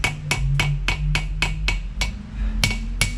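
A small ball peen hammer strikes steel in a steady rhythm while forging a patch knife, about a dozen sharp ringing blows close by, evenly spaced with a few heavier hits near the end.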